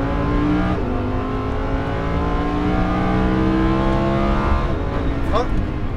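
Lamborghini Huracan engine droning and revving on the Lohéac race track during a driving course, a loud sustained roar climbing through the revs with a brief shift, close and continuous.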